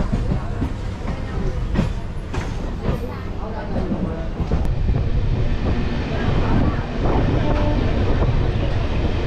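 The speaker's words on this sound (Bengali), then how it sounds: "শিয়ালদা স্টেশন থেকে আমি ট্রেন ধরলাম" A local train out of Sealdah station on the line toward Katwa rumbles along with rhythmic clatter and wind buffeting, heard steadily from on board.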